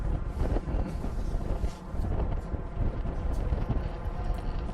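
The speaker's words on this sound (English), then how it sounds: "when there's nothing blocking you, the wind's just all there." Strong wind buffeting the microphone on an open cruise ship deck at sea off Mexico, a loud continuous low roar and rumble with brief gusty swells and a short dip midway.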